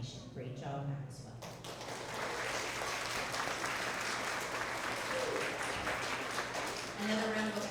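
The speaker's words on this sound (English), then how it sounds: "Another round of applause for all of our first grade Tigers of the Quarter" Sustained, dense clapping from an audience at an end-of-year kindergarten to second grade school award assembly, steady and even for several seconds, with a voice briefly audible at the start and end.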